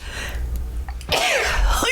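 A single sharp sneeze bursts out close by after a moment of quiet background hum, followed by a short breathy trail.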